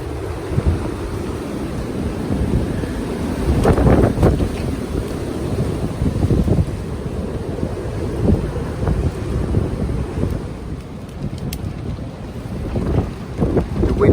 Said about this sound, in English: The wind sounds like a trainer.